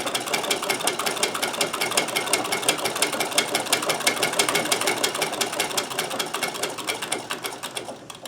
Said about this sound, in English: I usually go around, as you can see, twice to make sure that it's a really good buttonhole.